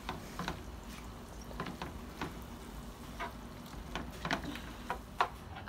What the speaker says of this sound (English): Gonna give everything a good stir.